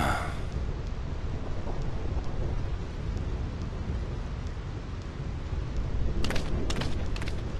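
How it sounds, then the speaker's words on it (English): A continuous stormy downpour with rumbling thunder in the video game Final Fantasy X, broad and steady throughout, with a few sharper crackles near the end. "This storm never stops."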